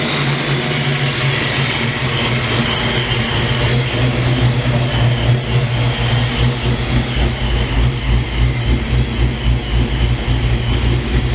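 Ford Mustang engine idling just after its first start while still cold, a loud, steady low rumble and hum with an even, unbroken drone throughout.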